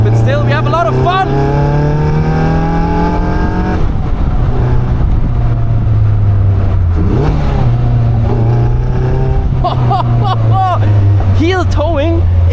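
A Caterham 340S engine revs while driving, its pitch climbing and dropping through sharp throttle blips and rev-matched downshifts, loud and close with a steady drone between, as a driver talks over it.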